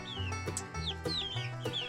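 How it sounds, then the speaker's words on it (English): A gray and white hen clucks repeatedly in short, close, steady calls, with no other sounds around. "That's the little gray and white hen."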